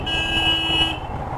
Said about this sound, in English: Why is he honking?